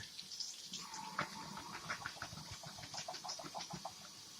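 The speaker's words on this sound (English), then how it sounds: "We're going to rinse them until the water runs clear." Water runs steadily from a tap while Great Northern beans are rinsed, a continuous splashing hiss with small irregular spatters, fairly close and moderately loud.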